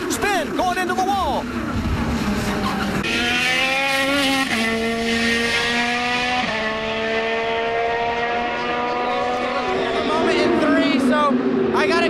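An IndyCar race car screams at high revs as it spins toward the wall at the Indianapolis 500, its engine whine shifting pitch in long sweeps while other cars pass under a commentator talking.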